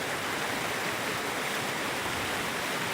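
Corococho waterfall in Piabetá, Rio de Janeiro, pours in a continuous, dense broadband rush of falling water, steady and close with no pauses or voices.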